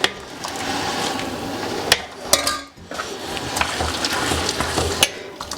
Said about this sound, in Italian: Sentite il rumorino che frigge?